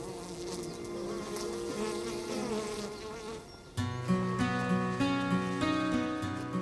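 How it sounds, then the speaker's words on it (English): Bees buzz loudly and steadily, a dense droning hum that grows fuller and louder partway through. "You're covered in bees."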